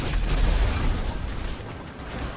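Rocket launcher blasts in GTA 5 Online, with a heavy, booming explosion rumbling loudly at the start and then trailing off into rough mechanical noise, and no speech over it.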